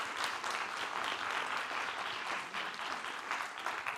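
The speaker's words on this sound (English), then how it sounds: "let's give them all a round of applause because they were awesome tonight" An audience at the Purdue Three Minute Thesis competition applauds the contestants with dense, steady clapping that fills the room without a break for the whole stretch.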